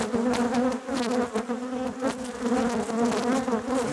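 Honey bees buzzing in an open brood box full of bees, a colony being prepared for winter; a dense, close, continuous hum with a wavering pitch and no voices.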